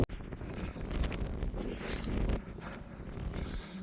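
Wind blows across open moorland at Edale, a steady, rough buffeting that roars against the microphone for several seconds with no voices.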